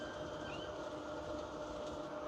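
A Roco model train running on an automated layout makes a continuous rolling rumble and rattle, with a faint brief squeal of wheels, heard on its own without talk.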